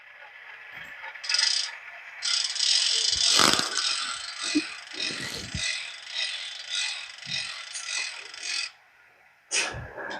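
A Rapido RS18-u model locomotive sound decoder running through its shutdown sequence, with mechanical ratcheting, rattling and hissing that gradually fades, then a final brief clank.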